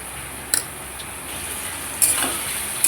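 Mutton sizzling steadily in a pan with chili paste, a soft continuous fry broken by a few brief clicks and stirring taps.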